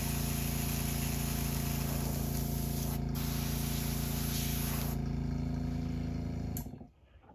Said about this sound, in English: Need my airbrush.